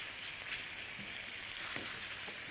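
Shrimp and calamari frying in a hot pan for a seafood salad, a steady close sizzle with faint crackles and light stirring scrapes, no talk over it.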